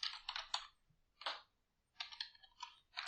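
Keys on a computer keyboard are tapped in quick bursts while entering data into an Excel spreadsheet, with short clusters of soft clicks separated by brief quiet gaps.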